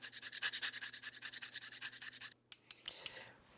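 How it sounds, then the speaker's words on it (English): Whole nutmeg rubbed against a grater over flour for a cranberry ricotta cake, a quick run of about twenty rhythmic rasping strokes up close, then a pause and a few light taps. "we'll grate in a little bit of nutmeg"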